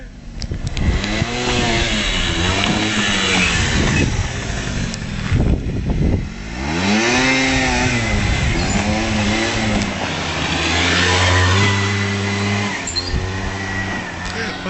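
Motorcycle engine revving repeatedly up and down, loud and close, the pitch sweeping in rising and falling arcs with a steadier high hold near the end, while people talk in the background.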